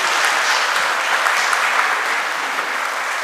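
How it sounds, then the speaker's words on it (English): A room applauds a government minister at a university speaking event, dense and steady clapping close by with no voices over it. "I ask you to give him a round of applause,"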